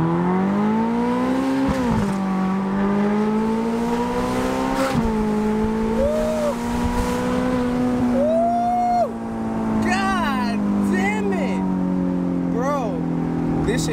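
A Ferrari accelerating hard through the gears, a loud steady engine drone climbing in pitch with brief dips at shifts, heard from inside the car while people talk over it.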